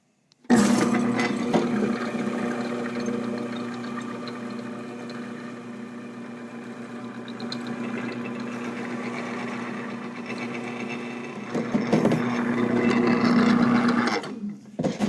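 A Robot Coupe CL 52 food processor slices a whole head of cabbage very fine, 3 mm, with a steady, loud motor drone that starts abruptly and runs continuously for about fourteen seconds before cutting off.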